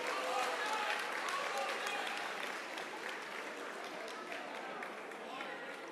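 An audience at a county precinct chairs meeting claps hands, a dense, even wash of applause from many people that holds steady and fades slightly across the clip.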